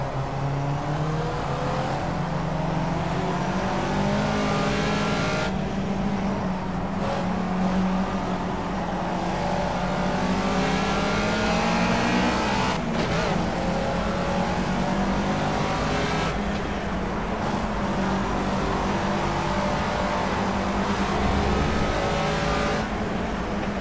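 A racing car engine in Project CARS roars continuously for over twenty seconds, its pitch sweeping up and down through gear changes and brief lifts, loud and up close with no voices over it.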